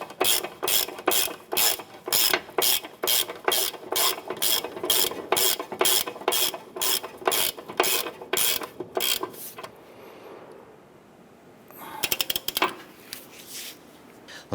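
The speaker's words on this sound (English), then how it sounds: "Go ahead and snug down that nut." A ratchet clicks rapidly in steady bursts while snugging down a strut nut on a 2008-2012 Honda Accord's driver-side strut and spring assembly, close and loud, then pauses before a brief final flurry of clicks.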